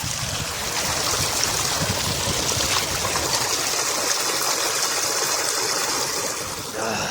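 Mountain stream water rushes steadily beside a campsite in the snowy Pangi Valley near Sural Bhatori, a continuous close flowing wash that fills the whole stretch with little change.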